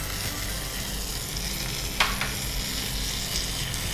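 Green chillies frying in a pan for chutney, a steady dense sizzle with a brief sharp clink of stirring midway, close and continuous with no talk.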